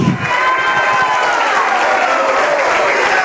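A church congregation at a Sunday Bible school symposium applauds and cheers together, a dense, steady wash of clapping that stays loud and continuous throughout, with some voices mixed into the crowd noise.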